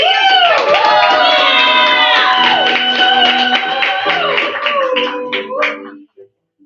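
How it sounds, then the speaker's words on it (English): An open mic crowd cheers loudly, with whoops and shouts layered over clapping in a dense, close roar that holds steady for several seconds before cutting off, followed by a couple of stray voices. "Make some noise for V."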